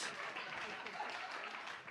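Faint, distant applause from a live music venue audience, a soft continuous patter of clapping for the night's performers, heard low and steady throughout.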